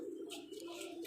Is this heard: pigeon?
yes